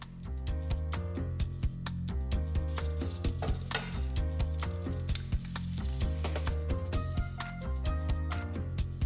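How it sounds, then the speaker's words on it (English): Three eggs fry in hot butter in a pan for a carnivore salad, a close, steady sizzle and crackle with sharp pops and occasional utensil clicks, heard without talking. "Right now I'm bathing eggs in butter, trying to get the hot butter to fry the egg whites"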